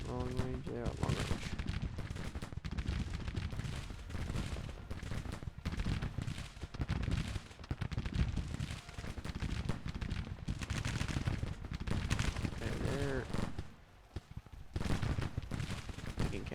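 Musket volleys and artillery fire crackle and boom continuously through a Total War battle between Civil War infantry, dense and loud, with a voice talking over parts of it.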